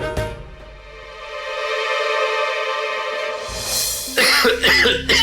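An elderly man coughs hard in a fit, a harsh drawn-out hacking sound followed by a cluster of rough, closely spaced coughs, loud and close.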